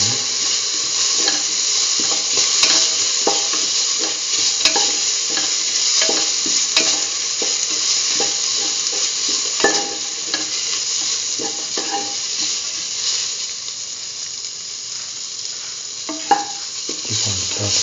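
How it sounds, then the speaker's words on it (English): Tomato pieces and salt being stirred in a frying pan, a steady loud sizzle running throughout with repeated scraping and clicking of a spoon against the pan. "put in the tomato pieces, put in the salt and mix."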